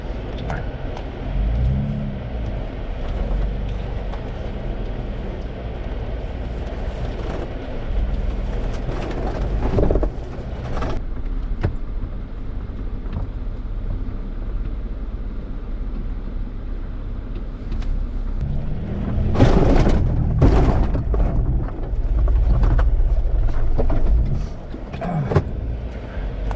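A four-wheel-drive vehicle in high range crosses rough ground outdoors in the American West and Southwest, a steady engine rumble with bumps and thuds, louder revving surges near the end.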